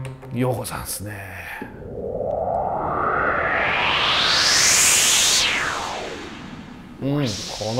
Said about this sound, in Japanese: この手のホワイトノイズもね素晴らしい。